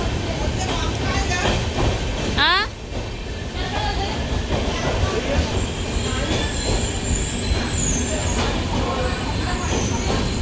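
A passenger train on the Berhampur to Simhachalam line rumbles along steadily and loudly, its wheels squealing and clattering, with a brief rising whine partway through.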